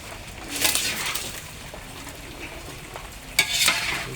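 Food cooks in a boarding-house kitchen, with faint sizzling and frying broken by two louder bursts of stirring or tossing, set against soft background noise.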